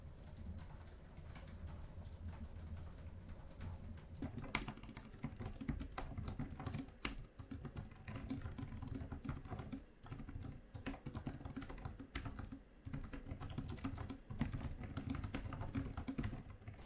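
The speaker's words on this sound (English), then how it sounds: "I will try typing a little bit more on the keyboard to get a bit of a feel for how the" Typing on the keyboard of a Lenovo Ideapad 5 laptop with an AMD Ryzen 4500U, a steady run of light, quick key clicks close by, continuing on its own without talk.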